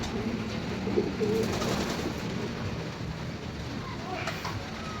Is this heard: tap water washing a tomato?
no